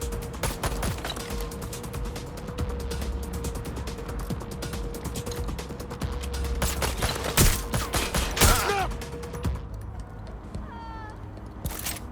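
Gunfire in the video game Watch Dogs: Legion, with rapid bursts of shots crackling over a steady mechanical hum, intensifying into a dense volley before tapering off near the end, no talking.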